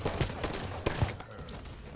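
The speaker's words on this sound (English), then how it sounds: "Using the old gunfighter magnum into good effect right there" A few sharp, heavy shots from the gunfighter magnum pistol in Halo 5 land in uneven succession, loud and close, among other game sounds.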